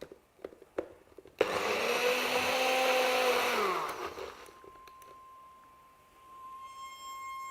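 An electric food mixer starts up abruptly in a home kitchen and whirs loudly and steadily for a few seconds, then winds down as a faint tone lingers, with no talking.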